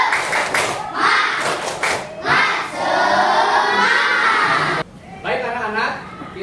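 Students in an Indonesian classroom perform a rhythmic clapping cheer, several bursts of group claps with shouted voices and a teacher speaking over them.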